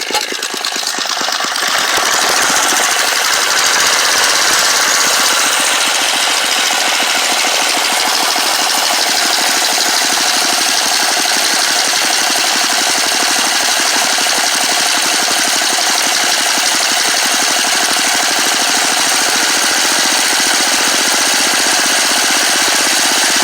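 A small engine runs steadily and loudly after restarting during carburetor adjustment, a constant buzzing drone with no voices.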